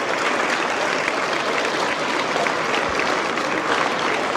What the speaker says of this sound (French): Donc, une bonne main d'applaudissements.